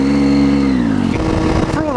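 A large engine drones loudly past, its pitch sliding downward as it goes by, with a voice talking over it.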